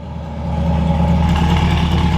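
A supercar with an aftermarket FI exhaust in track mode, the engine note swelling from a low rumble into a loud, sustained rev close by, with no voices over it.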